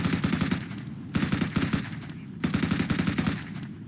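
Submachine gun akin to an MP5 fired in the zombie survival game Vein: three loud, rapid automatic bursts, each about a second long, with short pauses between them.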